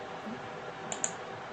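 Two quick, light clicks of a computer keyboard while a value is typed into Revit, near and faint over quiet room tone.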